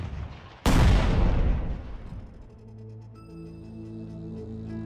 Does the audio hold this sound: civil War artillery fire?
yes